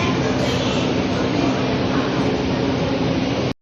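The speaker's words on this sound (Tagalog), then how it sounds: "Ayan, paparating na ang tren." A train pulls into a station in Hong Kong, a loud, steady broadband rumble and rush that fills the whole stretch before cutting off abruptly at the end.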